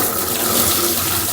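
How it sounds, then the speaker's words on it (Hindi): Tap water runs steadily into a kitchen sink while khichdi is being prepared, a constant close splashing hiss with no speech. "पानी भी आ गया।"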